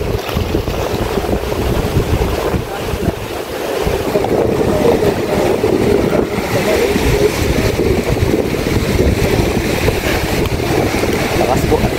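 Sea waves wash around a boat on open water, a continuous rushing and splashing mixed with wind buffeting the microphone, loud and close throughout.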